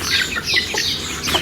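Rooftop chickens cluck and chirp in short, overlapping bursts, fairly close, with a steady outdoor background hiss and no talking.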